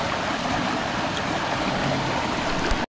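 The Shetugo river near Kuje runs in a steady, close rushing wash of flowing water near a small waterfall, broadband and unbroken for the whole stretch with no voices.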